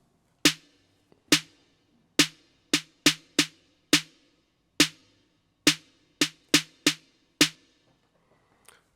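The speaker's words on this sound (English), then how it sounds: "Of course we're using 808 snare" Dry, punchy hits from an 808 snare in Ableton's 808 Core Kit, mono, with a glue compressor, used for an electro/EBM track: about fifteen isolated sharp hits with fast decay in a loose, irregular pattern, played alone.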